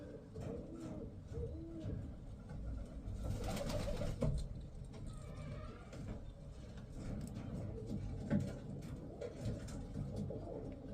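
A pigeon coos softly and repeatedly nearby, low murmuring calls sounding under faint background noise and muffled handling sounds, with quiet indistinct voices.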